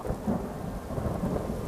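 Rolling thunder from a thunderstorm in Skyrim VR, a continuous low rumble that swells and pulses over steady rain, filling the whole moment with no voices.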